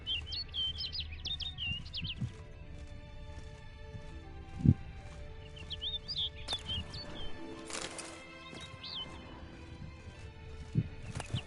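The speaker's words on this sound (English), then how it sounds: "Looks like the bird's leading me somewhere." Birdsong in a video game, a series of bright chirps and trills in short bursts over a soft ambient bed, with occasional footsteps and thuds and a sharp knock near the middle.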